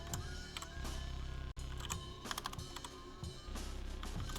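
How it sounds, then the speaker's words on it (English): Computer keyboard typing, a run of quick clicking keystrokes with short pauses, fairly close over a steady low background hum. "I'm just gonna type it."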